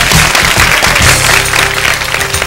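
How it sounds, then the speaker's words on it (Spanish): A television studio audience applauding a contest winner, loud dense clapping that fills the whole stretch, with faint music underneath. "¡Un aplauso para Enrique!"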